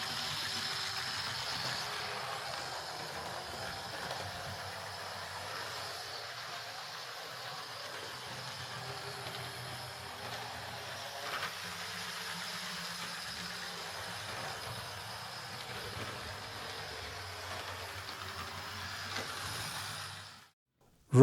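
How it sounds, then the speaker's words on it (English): A serviced Hornby 08 shunter model locomotive runs with a faint, steady motor whir and hum, continuous and even throughout before cutting off at the end. "Not the quietest running models these, but they can run quite smoothly and they have enormous pulling power"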